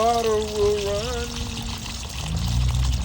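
Water gushing and pouring steadily as a top-load washing machine is emptied, a continuous broadband rush with a faint voice-like tonal sound over it early on and a heavier low splashing toward the end.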